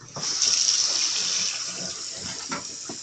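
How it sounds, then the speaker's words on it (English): Cold tap water gushes from a faucet into a kitchen sink holding cooked pasta, a steady splashing rush with a few soft clunks underneath. "now you're going to run some cold water in there to stop it from cooking"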